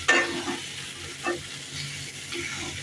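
Cauliflower and potatoes are stir-fried with spices in a pan, giving a steady sizzle broken by repeated scraping stirs at a moderate distance.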